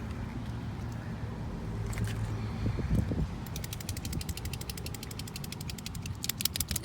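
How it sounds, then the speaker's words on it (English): Rattling clicks from a can of wheel touch-up paint shaken by hand during curb-damage repair on an 18-inch Tesla Model 3 wheel, a fast regular ticking that picks up after a few seconds over steady background noise. "That sound you hear is me shaking up the paint."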